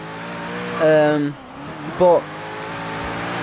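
A Hennessey Venom GT's V8 engine in the racing game Forza Horizon 3 revs in two sharp surges over a steady drone, loud and close, while a voice talks over it.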